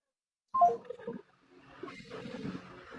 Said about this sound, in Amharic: ይሄ ልጅ እየጠራ ነው።